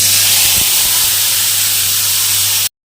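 Food dropped into hot oil in a pan, giving a loud, close, continuous sizzling hiss that holds steady and then cuts off abruptly.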